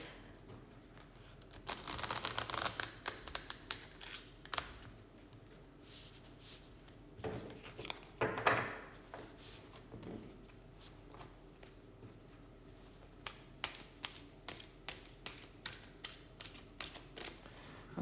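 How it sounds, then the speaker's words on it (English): Quiet riffling and snapping of a deck of cards being shuffled, in short bursts with soft taps between, close by and without talk. "let's just clear the deck, shuffle it a little bit"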